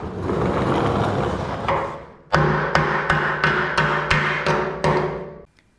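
Sharp metal hammer blows strike cracked welds on a Bricklin car frame during restoration, about seven evenly spaced ringing impacts following a noisier stretch of banging, close and loud.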